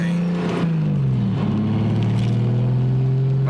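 Turbocharged BMW E36 328i four-door sedan driving with a steady, loud engine drone that dips briefly as if shifting, then settles back into a continuous low hum heard from inside.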